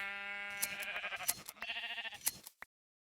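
A Minecraft sheep bleats in a short, wavering run of quavering calls, close and clear, ending in a brief click before silence.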